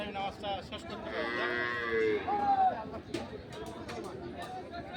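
At a cattle market, a bullock lets out a drawn-out moo rising in the middle, set against busy crowd chatter and people talking nearby.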